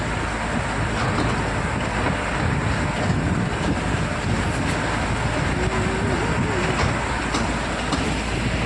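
A toy train ride in a park rumbles along steadily, a dense continuous rolling drone with wind buffeting the microphone, loud and close throughout with no talk.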